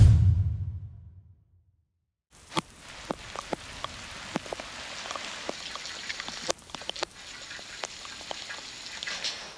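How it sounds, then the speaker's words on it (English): Heavy rain hammers down outside a house under renovation in Portugal, a dense steady hiss with scattered sharp drip impacts, rising after a near-silent opening with a fading low thump. "the rain is hammering down outside"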